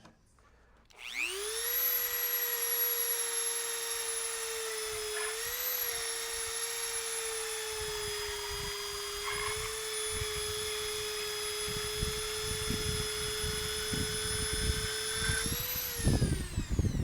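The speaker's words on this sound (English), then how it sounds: "I can't remember which way the Dremel goes" Dremel rotary tool spinning up and holding a steady, high, whining tone for about fifteen seconds, close and fairly loud, with faint rattling and bumps underneath and a brief pitch wobble midway.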